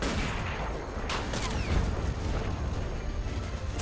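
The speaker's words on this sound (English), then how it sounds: "ships are opening fire" Naval guns opening fire in the Men of War: Assault Squad video game, a dense wash of booming and crackling gunfire with rumbling low end running steadily throughout, a few sharper blasts standing out near the middle.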